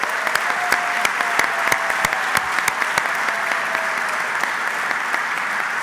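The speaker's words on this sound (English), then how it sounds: "Let's give everyone a big round of applause." An audience at a university athletic hall of fame induction ceremony gives sustained, steady applause filling a hall, with a few sharper individual claps standing out.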